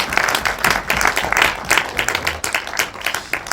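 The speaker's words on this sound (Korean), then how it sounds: "이 자리에 계신 그 고인의 두 가족분들에게 박수 한번" An audience at a Korean film screening and discussion claps for two bereaved families, dense applause filling the room throughout, steady and fairly loud.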